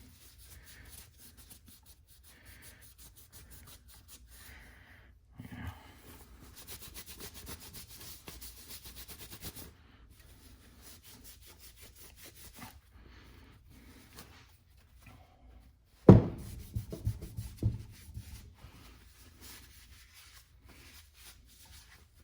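A cleaning towel scrubs grease marks off a metal tool in faint, intermittent rubbing bursts, with one sharp knock partway through followed by a few louder scuffs.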